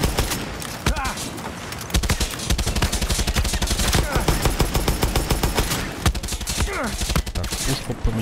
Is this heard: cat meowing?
no